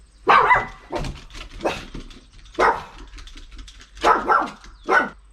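A pug barks in about six sharp, close, loud bursts, some coming in quick pairs, with short silent gaps between them.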